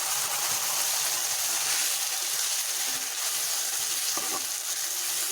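Ground ginger, garlic, onion and cumin paste fries in a pan with browned onion for a bhindi curry, giving a steady, even sizzle close by with no talking.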